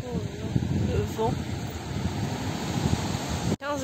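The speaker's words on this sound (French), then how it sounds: "Le vent." Steady wind buffets the microphone with a broad rushing roar at the coast in Martinique, and a voice speaks briefly near the start.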